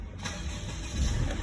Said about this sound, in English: And I'm gonna try to start it now.